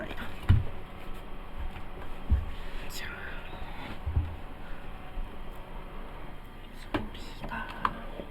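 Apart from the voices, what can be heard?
electric fan running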